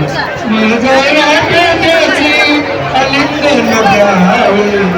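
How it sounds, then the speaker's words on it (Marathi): A dense crowd chatters loudly and continuously at a temple mahaprasad meal during a Hanuman Jayanti festival in a village, many voices overlapping close by. "गर्दी बघू शकता महाप्रसादाचा लाभ घ्यायला सर्वजण आलेले आहेत"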